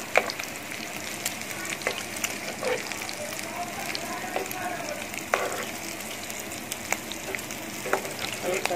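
Mutton chops coated in masala fry in a pan, a steady close sizzle broken by sharp crackles and pops, with someone talking over the cooking.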